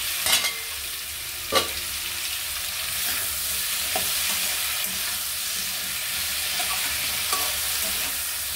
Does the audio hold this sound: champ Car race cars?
no